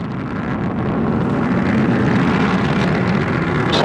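Atlas rocket carrying SOHO lifts off on its solid boosters and main engines, a loud, steady broadband roar that keeps going unbroken with no talk over it.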